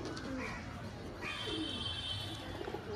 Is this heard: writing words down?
no